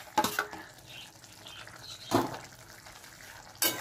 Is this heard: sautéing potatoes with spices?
yes